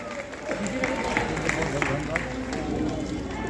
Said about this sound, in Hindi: तालियां बजाना आपकी जिम्मेदारी बनती है। तालियां आप सभी की तरफ से।